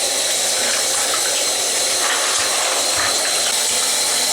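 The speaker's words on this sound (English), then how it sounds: "What you want to do is you just want to rinse these off." Tap water runs loudly and steadily over canister filter media from a Marineland C-360 aquarium filter as it is rinsed, a continuous close hiss with slight splashing changes.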